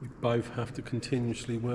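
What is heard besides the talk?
None of the usual background noises is heard.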